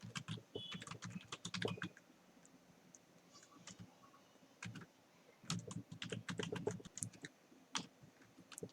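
Python code typed on a computer keyboard in a Jupyter notebook, with quick bursts of close, crisp key clicks broken by short pauses, fairly quiet and with no talking.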